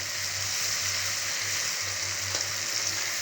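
Boiled potatoes stirred in a hot pan for an Assamese sweet-and-sour lentil-fritter curry, with a steady close sizzle of frying and the faint scrape of stirring running throughout, no voices.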